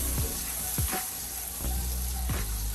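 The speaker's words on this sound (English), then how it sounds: "in a preheated pan, I just threw my stick of butter into the pan." A stick of butter sizzles and spits in a preheated pan, a steady close frying hiss with a few sharper crackling bursts as it starts to melt, no voices.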